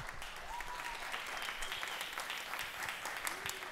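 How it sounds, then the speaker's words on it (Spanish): A crowd at a live Costa Rican music program claps steadily, a full even patter of many hands sustained throughout, moderately near, with a few faint whoops and voices underneath. "Un fuerte aplauso."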